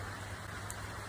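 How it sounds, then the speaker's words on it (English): Rain pours steadily, a dense, even hiss of falling drops with no breaks and no voices. "Here comes the rain."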